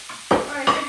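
Sausage hits hot olive oil over a high flame, with two quick bursts of sizzling and scraping less than a second apart, loud and close.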